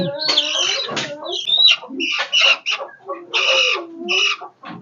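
Native chickens and roosters on a small poultry farm cluck and squawk up close, a loud, busy chorus of overlapping calls with a few crowing notes.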